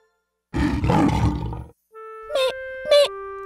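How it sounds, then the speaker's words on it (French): A cartoon lion in a French children's animation lets out one loud, close roar lasting about a second, followed by a short musical flourish with bright tones. "C'est un lion."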